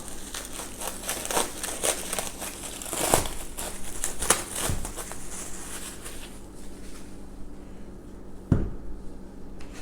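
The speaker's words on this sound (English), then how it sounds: "Now let's unwrap our dough." Plastic wrap peeled off rested homemade pasta dough, close crinkling and rustling in irregular bursts that fade toward the end with one last crackle.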